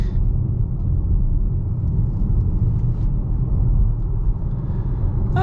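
A 2023 Volvo C40 Recharge Ultimate electric car on a bumpy stretch of road, heard from inside as a steady, loud low rumble of tyres and road noise that holds evenly throughout.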